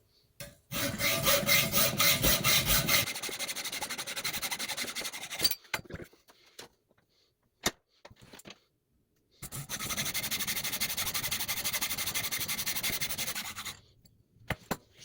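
A hacksaw cuts metal in two bursts of rapid back-and-forth rasping strokes, close and dry, separated by quiet pauses with scattered clicks and knocks.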